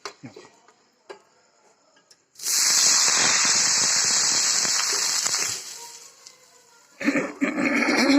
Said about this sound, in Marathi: आता हे तवा गरम झालाय ह्याच्यावर पाणी टाकते थोडं